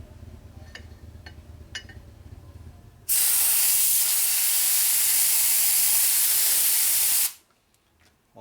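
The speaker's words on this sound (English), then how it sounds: "Blow through the shaft. Make sure air comes out this end." Compressed air blasts through the oil passage of a 1967 74ci Harley-Davidson Shovelhead engine shaft, a loud steady hiss lasting about four seconds before cutting off sharply, preceded by quiet workshop clicks.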